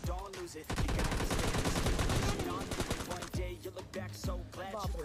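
Rapid automatic gunfire in PUBG Mobile Lite, a loud sustained burst of shots followed by shorter separate volleys and single cracks.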